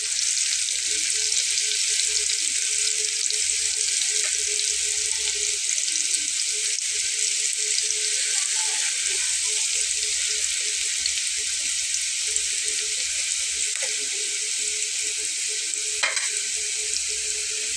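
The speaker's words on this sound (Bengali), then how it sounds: "পেঁয়াজটাকে একটু লাল করে ভেজে নেব।" Chopped onions frying in leftover fish-frying oil in a pan, a steady, loud, close sizzle that holds unbroken throughout, with no one speaking.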